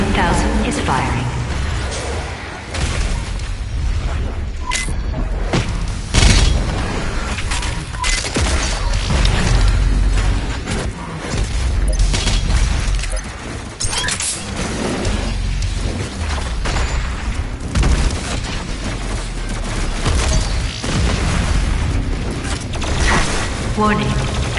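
Loud, dense weapon fire and mechanical creaking from the BFG 10,000 in Doom Eternal on Mars, sustained booming roar with metallic grinding textures throughout, with a voice heard over it.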